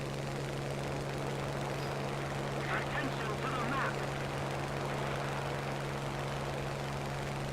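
A Spitfire's piston engine drones steadily in the War Thunder flight game, a constant low hum held at an even level, with a voice faintly present over it.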